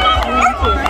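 Several short barks and yips ring out from dachshunds at the starting line of a wiener dog race, among excited voices, fairly close, with lively crowd chatter underneath.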